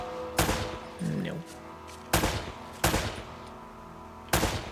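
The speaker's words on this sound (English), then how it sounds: "You can hear the gunshot, but there's like no sound when things actually get hit." Single gunshots fire from weapons in the video game Uncharted: Drake's Fortune, three or four sharp loud bursts spaced a second or so apart with little impact sound, a voice briefly heard between them.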